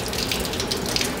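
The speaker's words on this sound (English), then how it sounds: "You can go ahead and just run some water through this" Water runs steadily from a tap to rinse out a container of acrylic, a loud, even hiss and splash with no talking.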